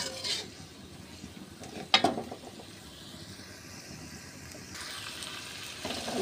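Chili, turmeric and cumin powders with bay leaves fry in a pan while cooking prawn heads, giving a soft continuous sizzle with occasional scraping and stirring clatters of a utensil against the pan.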